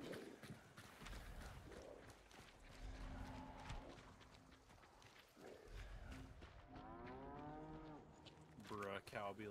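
A cow in the video game Hunt: Showdown 1896 lets out long, deep moos over rustling game ambience and soft thuds, with a few closer drawn-out calls near the end.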